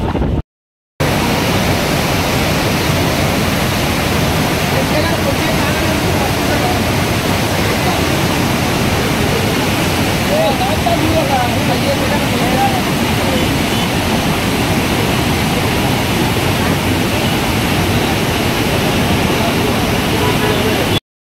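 Fast-flowing water rushing over a dam roars as a loud, steady, continuous wash that fills the scene without a break.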